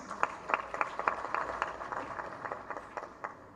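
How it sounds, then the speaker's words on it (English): A small group claps at a tourism expo, giving a round of applause: sparse, distinct claps in a loose rhythm, fairly faint and a little distant, with no talking over it. "so a round of applause for Maurice."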